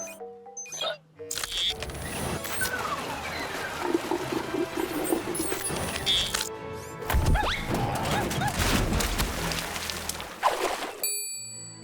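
Continuous rushing, splashing sea water as Dibo drinks lots of it, loud and churning for about ten seconds, with brief crashes and bubbling surges.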